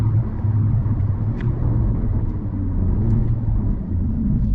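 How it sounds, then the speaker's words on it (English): A Hyundai Elantra N's exhaust gives a deep, steady engine rumble filling the whole stretch, loud and continuous, with no talking over it. "that exhaust note alone is just amazing"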